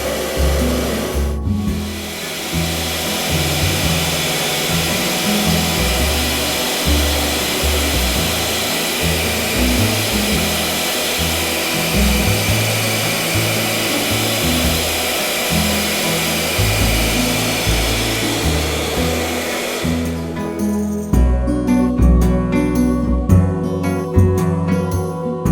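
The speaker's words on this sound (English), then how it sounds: "Slide this to switch on the vacuum cleaner." Solar-powered homemade vacuum cleaner running, a loud steady motor whine and airflow roar that holds constant, with a switching click near the start and rougher rattling toward the end.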